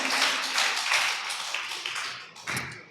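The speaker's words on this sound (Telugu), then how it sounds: "చప్పట్లు కొట్టి" A congregation at a church service claps hands together, a dense, steady patter of many hands sustained throughout, with a brief louder burst near the end.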